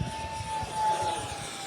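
A T-33 jet flying fast makes a steady, airy engine roar with a thin sustained whine, even and continuous, with no speech.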